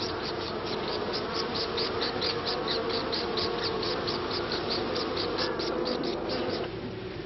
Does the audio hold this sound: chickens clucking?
no